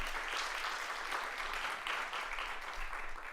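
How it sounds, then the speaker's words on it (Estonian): Applause from a conference audience at an environmental education event's award ceremony, a steady, even patter of many hands, fairly faint and distant, continuing unbroken throughout. "Teeme aplausi veel kord Kirkele."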